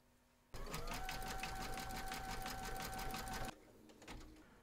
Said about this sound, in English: pop your hoop into your machine and stitch round number 15, and that's going to zigzag along here